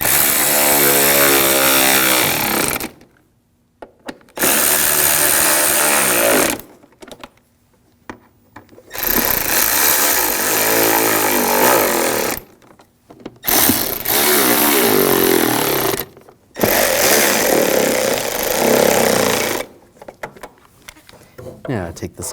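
A power tool runs in several loud bursts of a few seconds each, separated by short pauses, while tightening bolts on the windshield wiper transmission of a 2006-2009 Audi S4.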